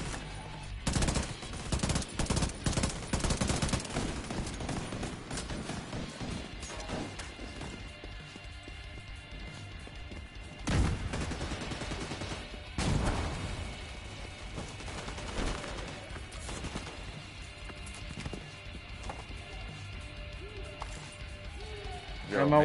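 Gunfire in the Division 2 video game as a player shoots at a sniper during a four-player co-op firefight, dense bursts of shots and impacts running throughout under excited talk.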